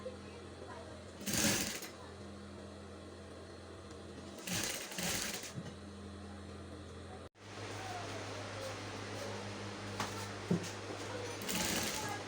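A sewing machine stitches round a crinoline elephant-ear sleeve in short bursts, with a longer steady run of stitching in the second half and quiet handling noise between.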